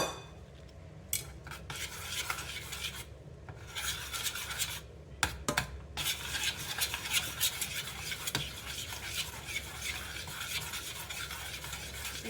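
A chocolate truffle mixture is stirred in a pan with the heat off, giving continuous soft scraping and swishing against the pan for about twelve seconds, broken by a few brief clinks of the utensil. Nobody speaks.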